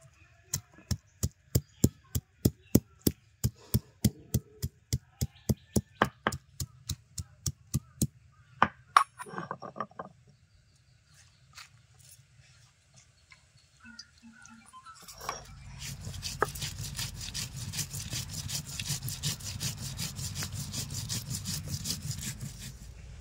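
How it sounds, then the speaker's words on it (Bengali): Ginger, garlic, dried chillies, cumin and coriander with a little water are ground to a paste on a stone slab, first as regular rhythmic scraping strokes, then a pause, then a continuous close gritty rubbing. "এই মশলাগুলো খুব মিহি করে বেটে নেব"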